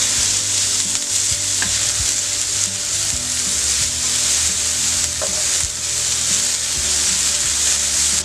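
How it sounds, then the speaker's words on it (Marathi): Onions frying in a little oil in a pan over a full flame for Saoji chicken, a steady close sizzle with occasional stirring scrapes throughout. "कांदा आपण चांगला सोनेरी होईपर्यंत भाजणार आहोत"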